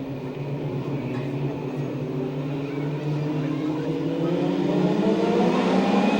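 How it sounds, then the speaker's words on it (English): Pack of TQ midget race cars at a Santa Maria, California oval, engines droning together and building steadily in pitch and loudness as they get ready to race, heard from trackside. "Getting ready to turn the TQs loose for 8 laps of racing action"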